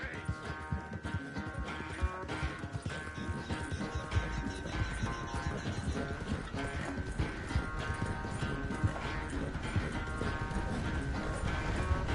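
Horse hooves clip-clop steadily on a trail in the video game Red Dead Redemption 2, continuous and fairly close, mixed with game music and brief voices.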